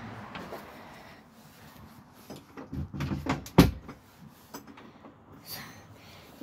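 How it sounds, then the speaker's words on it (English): A door is pushed shut indoors, a short cluster of muffled thumps and clicks with a sharper latch knock in the middle, surrounded by faint shuffling and handling noise. "Okay, drop back, close the door."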